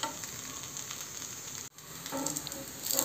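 Akki rotti, a rice flatbread, sizzles steadily on a hot pan, a continuous soft frying hiss with a brief dip midway before the crackle returns slightly stronger.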